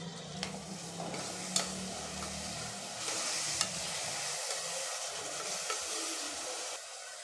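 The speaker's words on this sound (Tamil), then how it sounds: "இது கொஞ்சம் நல்லா வதங்கட்டும்." Chopped tomatoes and onions sizzle steadily in a hot pan for a sprouted chickpea curry, with occasional sharp clicks and scrapes of stirring, no voices.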